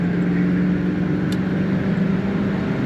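A 1977 Pontiac Grand Prix LJ in very nice condition accelerating hard to pass another vehicle, heard as a steady, loud low engine roar with road noise from inside the car, and no voices.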